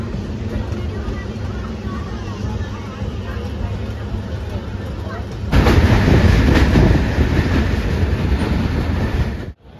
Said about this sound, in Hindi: तो ये ट्रेन से चले अब हम न्यू दिल्ली से हरिद्वार।